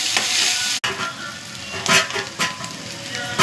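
Egg fried rice being stirred in a hot pan, street style, bursts of sizzling and spatula scrapes with one abrupt brief cut in the sound, close and fairly loud.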